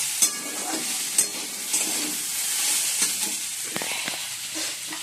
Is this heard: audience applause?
no